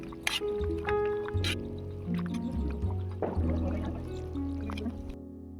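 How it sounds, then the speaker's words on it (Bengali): Pieces of fried katla fish are set into a simmering potato and cauliflower curry, giving soft wet plops and liquid squishing with a few clinks, close by and moderately loud, over a low background hum. "এবার আমি ভেজে রাখা মাছগুলো দিয়ে দেবো।"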